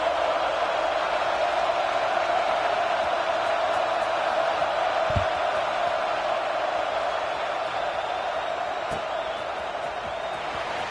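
A stadium crowd in the NCAA 25 college football video game keeps up a steady, broad roar at game-day kickoff, an unbroken wash of massed voices with a faint thump midway.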